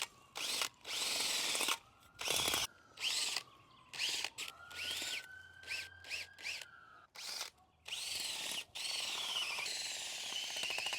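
A power auger digs 3-inch planting holes in garden trenches for potatoes, short repeated bursts of loud drill whine with rising and falling motor pitch, broken by brief pauses.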